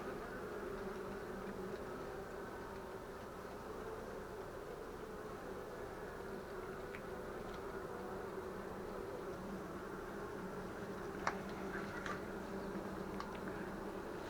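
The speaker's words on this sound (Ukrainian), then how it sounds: "Такі якісь тривожні бджоли" Agitated Buckfast honeybees hum in a steady, dense drone close by at an open hive, with a few sharper buzzes of individual bees passing near.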